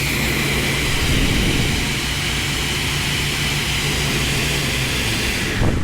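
A 2023 SCM Class SI 350 sliding table saw runs with its blade raised, giving a steady, loud, even motor-and-blade whine that holds unbroken throughout, with a slight change right at the end.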